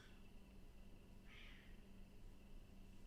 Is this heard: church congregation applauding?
no